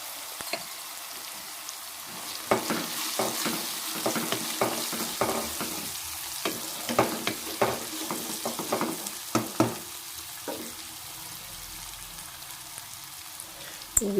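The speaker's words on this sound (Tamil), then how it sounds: "காயெல்லாம் கொஞ்சம் நல்லா வதங்கிடுச்சு. இப்போ கொஞ்சமாக மஞ்சள் தூள் கொஞ்சமாக சேர்த்துங்க" Vegetables sautéing in hot oil with a little turmeric for rava kichadi: a steady close sizzle broken by scattered clicks and scrapes of stirring, with no voices.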